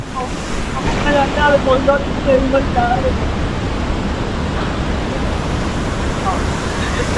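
Rushing water of a waterfall in a forest, a broad steady roar close by, with voices talking briefly over it near the start.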